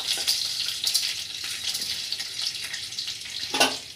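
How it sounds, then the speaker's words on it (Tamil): Garlic with chana dal and urad dal frying in oil in a small pan, a steady close crackling hiss with brief louder sputters near the end, no voices. "பூண்டு இதெல்லாம், இந்த கடலப்பருப்பு, உளுத்தம்பருப்பு, இதை மட்டும் போட்டு வறுத்துக்கலாம்"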